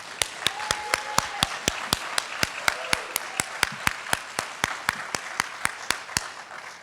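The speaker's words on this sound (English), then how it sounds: "join me in just another round of applause for Dr. Dowler." Sharp claps ring out in a steady, evenly spaced rhythm, fairly loud and close, with faint voices underneath, at a Medicaid community forum.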